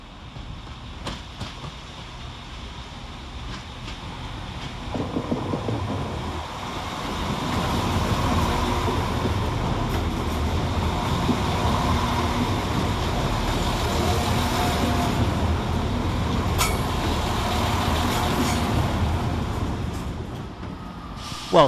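A West Midlands Railway class 196 diesel unit, 196-107, moves through Wolverhampton station on a Birmingham New Street to Shrewsbury service, its engine and wheels swelling into a loud, sustained rumble with faint rail clicks and no speech.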